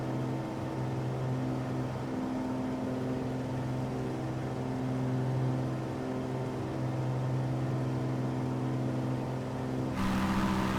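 The engine of a TB21 GT Trinidad light aircraft in a flight simulator game drones at a steady pitch, a constant, even hum that holds for about ten seconds before shifting slightly in tone at the end.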